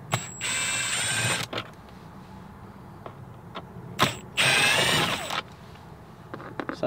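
Socket and reducer spinning out Torx T20 bolts from interior trim in a 2017-2022 Ford, two close bursts of whirring tool noise separated by quieter clicks and small clatter.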